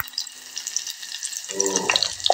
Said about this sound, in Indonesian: Kita gorengkan dulu